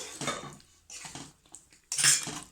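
A utensil clinks and scrapes against a pan while brinjal curry is stirred, giving three short separate bursts of metallic scraping with brief quiet gaps between them.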